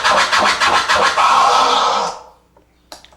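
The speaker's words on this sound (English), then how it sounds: "scratching is basically moving the record back and forth" Turntable record scratching, the record dragged rapidly back and forth under the needle in a quick rhythmic run of rasping strokes, loud and close, ending in a short tail and one faint final flick.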